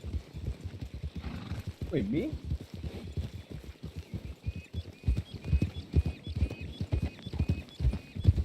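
Horse hooves clip-clop in a steady rhythm in a roleplay video game, close and loud, with a whinny early on and a person briefly talking over them.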